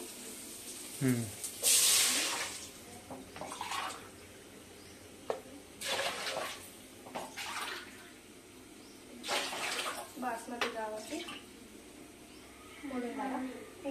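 Water is poured into a cooking pot of country chicken and drumstick curry with rice, a short splashing gush followed by quieter sloshes, with a person talking throughout.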